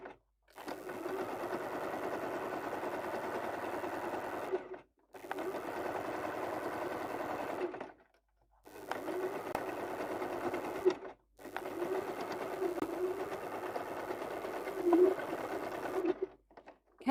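Domestic sewing machine backstitching fabric in four steady whirring runs separated by short pauses, fairly close and alone with no talking.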